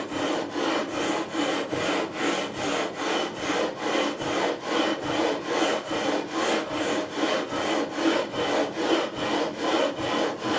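Metal leveling beam sanding the frets of a made-in-Japan Ibanez Prestige guitar, a steady, close rhythmic rasping stroke repeated back and forth about twice a second with no talking.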